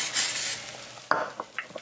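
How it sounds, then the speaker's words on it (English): A short hissing burst of cooking spray at the start, followed by faint sizzling and light scraping clicks in a pan. "Take the spray again, spray them."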